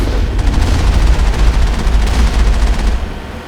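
Rapid gunfire from a player-driven vehicle in Mass Effect, a dense, continuous rattle of shots over a low rumble, loud and steady throughout with no pauses.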